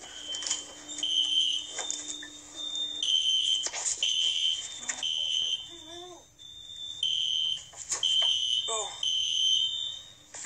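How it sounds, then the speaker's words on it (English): A building fire alarm sounds in a stairwell area with steady, piercing electronic tones that pause and restart, while people talk nearby. "so you can hear an alarm in the background."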